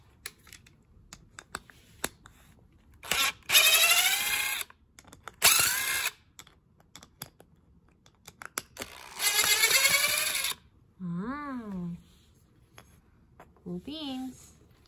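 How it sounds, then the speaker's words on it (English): A power drill removes screws in several loud whirring bursts, each a few seconds long, with clicks between them. Two short rising-and-falling whines from the drill come near the end. "Now let's take out the screws."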